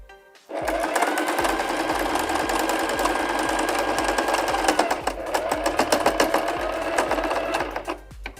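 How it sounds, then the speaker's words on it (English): A sewing machine stitches through fabric to divide a pocket, running a fast, even mechanical whir and clatter close up for about eight seconds before stopping. "I'll stitch up this one to separate the pocket so that we have two separate pockets for this part"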